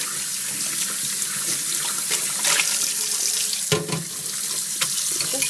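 White vinegar pours into dye water for Kool-Aid dyeing linen, a steady close splashing liquid stream running throughout with small bumps.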